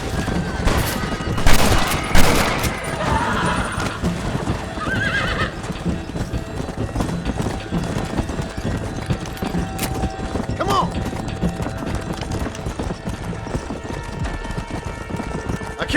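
Horses gallop and whinny during a Red Dead Redemption chase, hooves clattering fast and close with sharp neighs near the start and scattered gunfire mixed in, while brief shouted voices come through.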